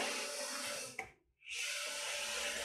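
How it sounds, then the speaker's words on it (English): Cricut Maker 3 cutting machine feeding vinyl without a mat gives a steady close motor whir that briefly stops, then resumes as the material moves back out. "So it did go ahead and eject a little bit out the back side and then fed it back to the front."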